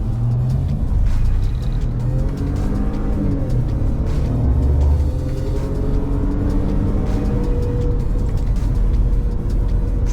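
A Ford F-150 pickup with the 2.7 engine accelerating hard from a standstill to 60 in four-wheel drive, a steady loud engine rumble and road roar heard from inside the cab for the whole stretch, no talk.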